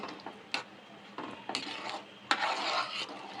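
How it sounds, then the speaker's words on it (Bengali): A spoon stirs chana dal with turmeric and sugar in a pot, making close scraping and clinking strokes at an uneven pace over a faint simmer, with no voices. "দিয়ে দেব পরিমাণ মতন হলুদ আর দিয়ে দেব পরিমাণ মতন চিনি দিয়ে আমরা ভালো করে ডালটার সাথে মিশিয়ে নেব"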